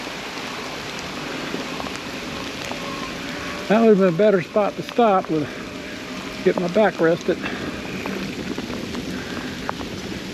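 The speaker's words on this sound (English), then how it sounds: "Now it's raining pretty hard" Heavy rain falling during a 23-mile cross-country ride near Santos, a steady hiss of downpour on surfaces throughout, with someone talking over it in short bursts partway through.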